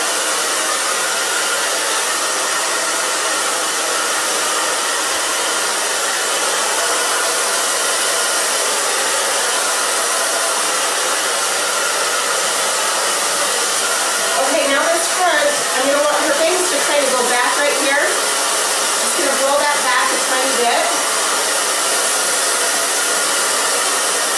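Hair dryer blowing steadily throughout while long hair is blow-dried upward after a haircut, a loud continuous whoosh with the airflow fluttering briefly midway.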